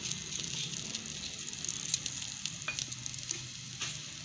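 Hot oil in a pan sizzles and crackles steadily for tempering moong masoor dal, a close, dense frying hiss with small pops and faint stirring clinks, heard alone without talk.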